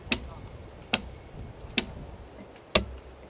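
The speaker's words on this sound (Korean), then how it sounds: "바로 잔도공들의 망치 소리다." Cliff plank-road workers' hammers strike high on a vertical rock face in a canyon, four sharp metallic blows spaced about a second apart, ringing out clearly over a low background hum.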